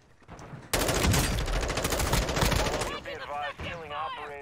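Rapid automatic gunfire rips out in a dense burst during a Call of Duty DMZ match, loud and close for about two seconds, followed by people talking.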